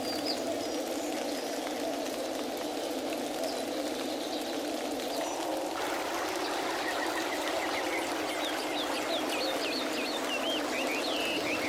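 Exotic birds calling in a Brazilian forest during rain, with faint, high chirps and trills over a steady wash of rainfall and dripping.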